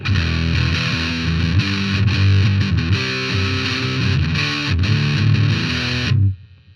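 A heavily distorted electric guitar plays a chugging riff through a DOD American Metal distortion pedal with a thick, saturated tone, loud and continuous, then cuts off abruptly near the end.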